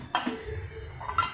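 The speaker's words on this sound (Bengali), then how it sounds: "এই যে দেখুন ঢাকনা দিয়ে সুন্দর করে আটকে দেবো" A metal tiffin carrier lid is set on and clicked shut, giving two short clinks about a second apart with quiet handling noise between, near and fairly soft.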